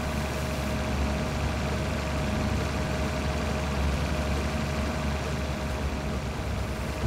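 Steady, loud drone of a tractor engine idling in a German farming simulation game, an unbroken low rumble with a faint whine on top, no other sounds.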